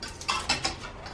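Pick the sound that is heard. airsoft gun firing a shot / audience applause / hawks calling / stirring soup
stirring soup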